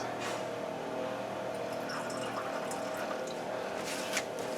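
Water poured into a measuring container while making coffee, a steady, fairly quiet splashing fill that continues throughout with faint clinks.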